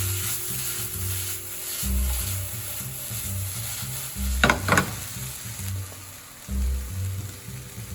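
Tomato is stirred into peppers and garlic frying in a pan, with a steady sizzle under repeated scraping, thumping strokes of a utensil, close up and with no speech.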